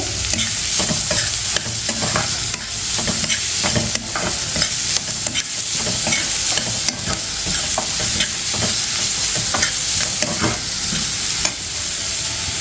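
Onion, carrot and cashews sautéing in a pan for vermicelli upma, with a steady loud sizzle and repeated spoon stirring and scraping throughout.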